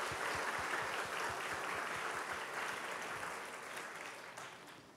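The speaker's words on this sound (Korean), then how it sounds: "우리 감사 영광의 박수 올려드리면 좋겠습니다" A congregation at a church retreat worship gathering claps together in steady, moderately loud applause for about five seconds, slowly tapering at the end.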